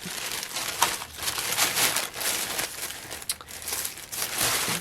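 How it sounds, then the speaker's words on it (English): Paper sacks from a Goodwill being handled, giving close, irregular crinkling and rustling in uneven bursts throughout, with no talking. "These are just some paper sacks."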